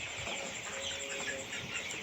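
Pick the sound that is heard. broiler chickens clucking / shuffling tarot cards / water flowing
broiler chickens clucking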